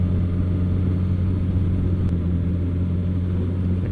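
A motorcycle engine drones steadily during a group ride, a loud, constant low rumble with wind noise and no clear change in revs.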